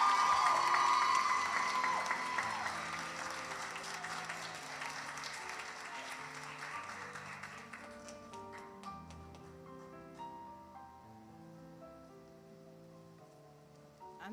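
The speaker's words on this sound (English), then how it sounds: "another round of applause" Applause from a graduation ceremony audience, loud and dense at first, then thinning and fading over several seconds while sustained musical tones play underneath.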